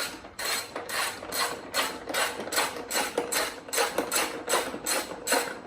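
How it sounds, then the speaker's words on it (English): A 12mm socket on a hand ratchet turns counterclockwise to loosen a seat bolt, giving a steady run of fast, close clicking pawl strokes in regular bursts with no talk. "I'll remove the seat cover or the seat with a 12mm in my ratchet, and I'll go counterclockwise."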